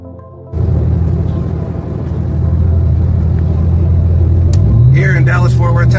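Car riding along Highway 183 in Dallas-Fort Worth, Texas, a steady low road rumble and engine drone inside the vehicle, with a voice talking over it near the end.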